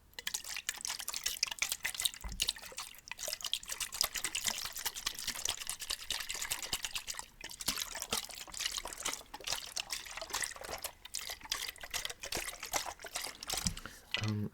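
Water sloshes and trickles inside a school-issued thermos, with continuous close, soft liquid splashing and dribbling, fairly quiet.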